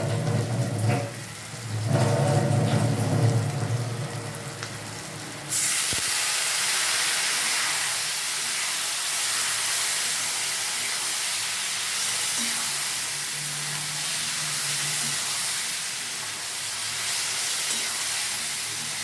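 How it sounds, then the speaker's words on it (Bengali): Spice masala for a fish curry sizzles and hisses in a pan on the stove after a splash of water goes in, a steady loud steam hiss that flares up partway through, with no talking. "একটু জল দিয়ে নেবো যাতে মশলাটা ভালোভাবে কষানো যায়।"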